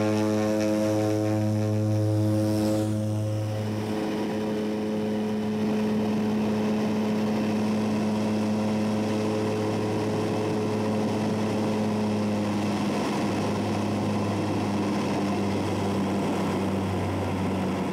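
A seaplane's propeller engine drones loudly and steadily in the Maldives, its pitch shifting early on before settling into a continuous close hum.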